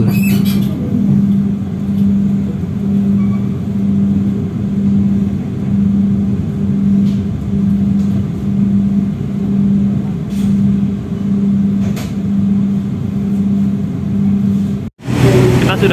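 Argo Wilis express train pulling out of Solo Balapan station, heard from on board as a steady, loud mechanical drone with a regular pulsing beat that runs throughout, cutting out briefly near the end.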